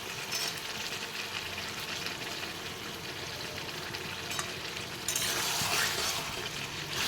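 Shelled boiled eggs fry with a browned chicken curry in a pan. A low, steady sizzle continues throughout, and a brief louder burst of hiss comes near the end.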